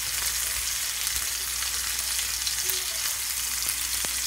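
A ribeye steak sizzles in a cast iron pan, a dense, even, constant hiss of fat and juices frying close up, with only a few faint pops throughout.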